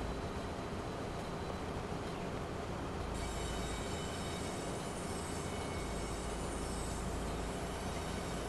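A video game express passenger train rumbles steadily past, a continuous loud roar of wheels and rail noise with a faint metallic hiss running throughout.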